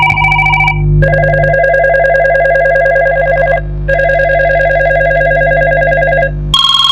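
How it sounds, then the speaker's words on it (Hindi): A telephone ringing loudly in repeated long electronic bursts with short gaps between them, close and clear with no talking. "इसका नंबर पर फोन आ रहा है"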